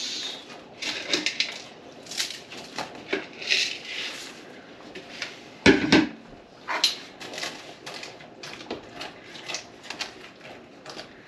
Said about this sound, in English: It's come to a boil. Add in our ramen noodles.